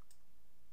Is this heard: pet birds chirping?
no